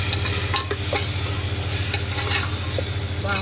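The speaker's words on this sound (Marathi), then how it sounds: "परत छान परतून घ्यायचे आपल्याला" Spiced pulao masala for prawn rice is sautéed in a pan, with constant close sizzling and quick spatula scrapes and stirs, loud and busy, with no voices.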